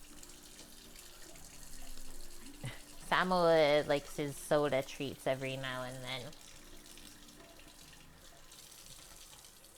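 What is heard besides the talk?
water running from a kitchen tap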